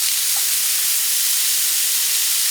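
Black beans tipped into a hot skillet holding browned bits from spicy chicken, giving a loud, steady, even hiss of sizzling that fills the whole moment with no voices.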